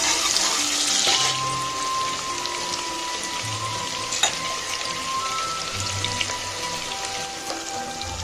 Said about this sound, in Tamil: வெங்காயம் பாருங்க நல்லா வதங்கிருச்சு.